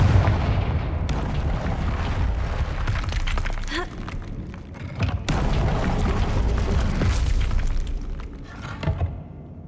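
Spell explosions and impact booms from Confringo fire spells in Hogwarts Legacy, a dense run of loud bursts and crackling blasts over game music and effects.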